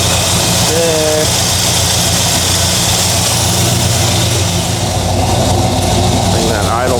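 Carbureted car engine idling steadily and loud throughout, a continuous low rumble with a brief rev-like rise near the end.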